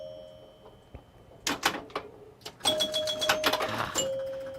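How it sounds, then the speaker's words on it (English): Chimes of a Vulcan pinball machine ring out in bright, sustained tones over clattering playfield noise, following a few sharp mechanical clicks. "I didn't know if I was going to like the chimes on these."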